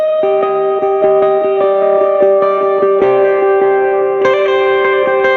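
Electric guitar picked in a steady, repeating single-note pattern through a pedalboard, drenched in reverb and echo with a touch of chorus and grit, loud and alone with notes ringing into each other.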